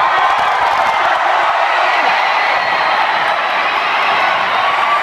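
Large concert crowd at a show in Mexico roaring and cheering continuously, a dense, loud wash of voices with scattered whoops and claps sustained throughout.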